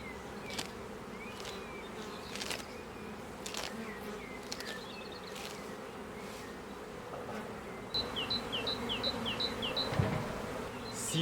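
Honeybee colony buzzing steadily around an open hive during beekeeping, a dense continuous hum with individual bees droning close by, and a few faint high chirps near the end.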